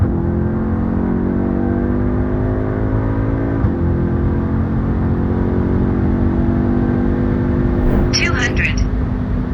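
A tuned Audi S3 8Y Stage 2 pulls hard from 100 to 200 km/h, its engine drone climbing steadily in pitch with a brief shift dip, loud and close throughout, with a faint chirp near the end.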